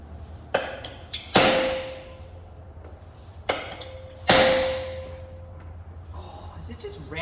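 A big hammer striking a stuck screw on an RB30 engine oil pump, two pairs of sharp metallic blows with ringing decay, close and loud, spaced a few seconds apart.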